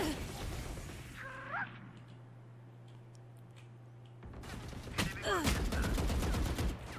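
Gunfire in a Valorant match: a sharp burst of shots near the start, a quiet stretch, then a loud cluster of rapid shots and impacts toward the end, with faint voices in the background.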